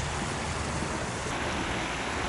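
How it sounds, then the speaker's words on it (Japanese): A river flowing in front of a sake brewery in a rural spot near Shizuoka, a dense, loud, continuous rushing wash with no voices. "前に川が流れてて、音がいい感じですね。"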